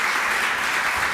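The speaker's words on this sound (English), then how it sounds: "Please give him a warm applause." A literary event audience applauds to welcome the novelist Laurent Binet: a dense, even wash of clapping, loud and close, continuous through the short stretch without voices.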